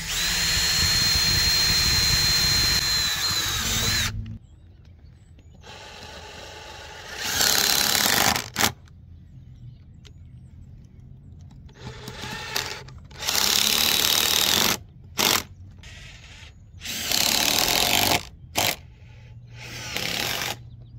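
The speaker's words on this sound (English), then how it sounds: "I'm going to drill out the pipe" A power drill bores out a metal pipe on a farm entry fix, running in loud bursts: one long stretch, then several shorter runs separated by quiet pauses, close by with no talking.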